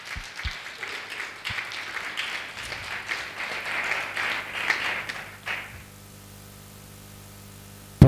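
A church congregation claps for Jesus Christ during a Republic Day prayer service, with steady, fairly soft applause that runs for several seconds, then fades out and stops.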